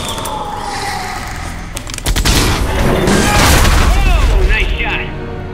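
Gunfire and explosive booms in a Jurassic Park video game, a dense chaotic burst of shots and impacts building after a calmer opening, with shouted voices and a siren-like whine mixed in.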